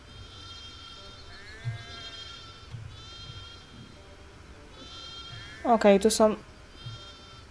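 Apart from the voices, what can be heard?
goats bleating in Gothic II video game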